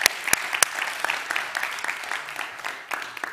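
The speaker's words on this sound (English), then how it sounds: "Another round of applause for Katarina Rolfsdotter Jansen." Audience applause at a TEDx climate conference at Wageningen University, with scattered individual claps over a moderate, fairly thin ovation that holds steady and then slowly tapers off.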